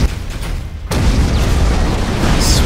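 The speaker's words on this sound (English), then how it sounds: "Explosion is nice." A deep explosion in the Galactic Civilizations 3 space strategy game, a loud sudden boom that opens into a sustained rumbling roar, with no talk.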